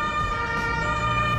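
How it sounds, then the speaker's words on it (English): Emergency vehicle siren passing outdoors, a steady wailing tone heard from a moderate distance over low traffic rumble. "there's a siren going on."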